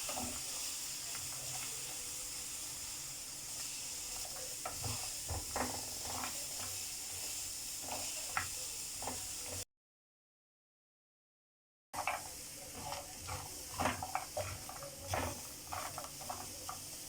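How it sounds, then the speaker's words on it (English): Peanuts roasting in a pan give off scattered faint pops and crackles over a soft hiss, irregular and quiet throughout, with a short silent gap partway through. "You can hear the peanuts popping, which shows that they are almost done."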